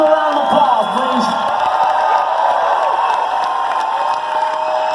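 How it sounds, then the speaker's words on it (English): Comedy show audience at the Starland in Sayreville, New Jersey, a loud sustained roar of cheering, whooping and clapping from a packed room, with shouted voices rising above it. "Give them a round of applause, please."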